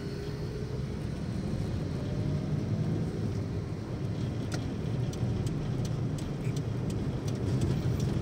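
A car driven along a road, heard as a steady, fairly loud drone of engine and tyre noise with no gaps or speech throughout.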